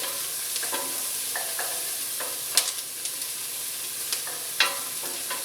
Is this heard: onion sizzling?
yes